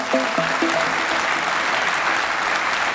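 Warm applause from a podcast audience, a dense steady clapping of a small crowd, close and continuous, with a short burst of voices at the start.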